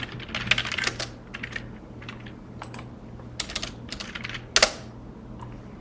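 Keys clatter on a computer keyboard in quick, uneven bursts of close, crisp taps with brief pauses between, alone without talk.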